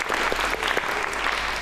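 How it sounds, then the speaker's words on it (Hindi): Studio audience at a Pakistani talk show applauds the series Ek Thi Laila, a short burst of dense, steady clapping filling the whole moment without speech. "एक थी लैला के लिए तालियां बजाएं"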